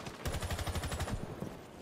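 Quick burst of gunshots through a wall in a shooter video game, a fast run of muffled, fairly faint shots that trails off, with no one talking.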